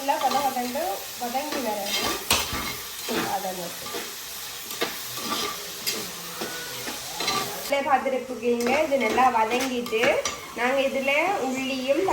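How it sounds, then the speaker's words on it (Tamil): Onions frying in oil for a dried-fish thokku are stirred briskly, giving a continuous sizzle under scraping utensil sounds, while a voice carries on over much of the cooking. "வெங்காயம் போட்டு நல்லா எண்ணெய் கேட்டு வாட்டக்கேட்டப்பட கிண்டணும்"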